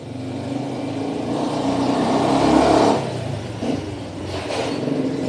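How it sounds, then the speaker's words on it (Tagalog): Cars pass on the street outside in the morning, heard from indoors as a muffled engine rumble that swells to a peak and fades over a steady traffic background. "Maingay, maingay na sa labas guys. Madami nang dumadaan na sasakyan guys."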